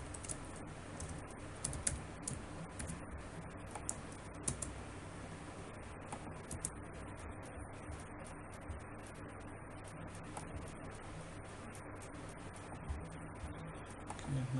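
HTML code typed on a computer keyboard, with quiet, close, steady clicking keystrokes that run continuously in quick irregular bursts.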